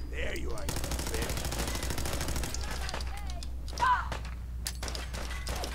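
Gunfire in Fallout 4 at Saugus Ironworks, a rapid automatic burst with quick repeated shots, then scattered bangs and game effects with a voice briefly in the mix.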